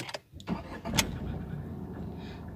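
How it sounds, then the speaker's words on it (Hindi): A Tata Tiago XZ Plus 2021 hatchback starts up, giving a brief crank and catch followed by a quiet, low idle. "ये देखिए ये कार मैंने स्टार्ट कर दी है बिल्कुल कोई ज़्यादा साउंड नहीं है"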